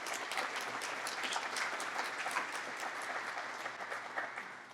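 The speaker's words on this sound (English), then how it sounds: "Y'all don't need to ever be shy about clapping." An audience at a city's State of the City address claps in sustained, even applause from a hall full of people, loud and continuous without cheering.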